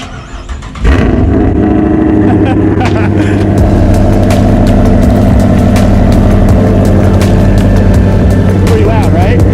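A 5.7L car engine with a Flowmaster exhaust starts, then idles steadily with a loud, deep rumble close by for the remaining seconds.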